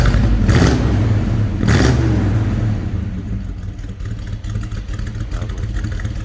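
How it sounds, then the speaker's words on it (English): A 1971 Ford XY GT Falcon's big engine revs twice in quick bursts, then settles into a loud, rumbling idle, close and with no talking. "Let's give it a little rev, Nicholas."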